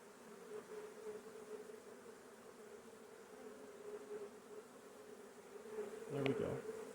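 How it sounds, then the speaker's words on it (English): Honey bees fly around an open hive during a sugar-roll mite check, a soft, continuous droning hum with a brief louder buzz as a bee passes close to the microphone near the end. "All those bees that are flying, those are not nurse bees."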